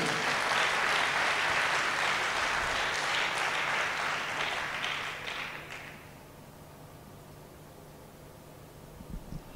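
A church congregation claps and cheers loudly together, a dense wash of applause that holds strong for several seconds, then thins out and fades into quiet room tone.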